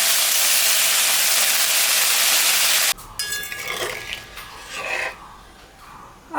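A ground paste of ginger, cumin, dried and green chili is added to a simmering fish curry of katla fish. A loud, even sizzle cuts off abruptly, and softer scraping and bubbling follow.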